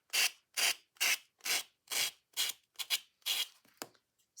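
Steady back-and-forth rasping of an emery board sanding paper craft index cards, about ten even strokes close up, slowing and shortening toward the end.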